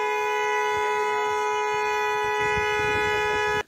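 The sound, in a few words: car horns honking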